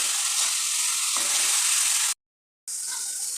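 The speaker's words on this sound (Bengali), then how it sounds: "এদিকে চিকেনটাকে খুব সুন্দর করে আমি একটু ভেজে নেব" Steady, loud sizzling of chicken frying in a pan, a constant crackling hiss that cuts out briefly to silence, then resumes.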